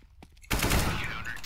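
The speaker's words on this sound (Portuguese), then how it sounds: "Nossa, que tiro no peito." Gunfire in the video game Counter-Strike: Global Offensive erupts suddenly after a brief quiet stretch with faint voice-like sounds. A loud, sustained burst of rapid shots follows, close up.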